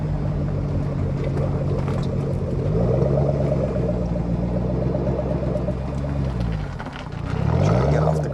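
A 2007 Ford Mustang Shelby GT500 pulls away slowly from gravel, its deep engine rumble swelling and easing as the revs climb and drop in two gentle surges, close and steady with no voices.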